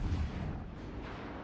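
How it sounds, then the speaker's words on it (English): Distant naval guns boom and rumble in a warship battle game, a low continuous roar of incoming shellfire rolling on for the whole stretch with no talk over it. "So more incoming fire."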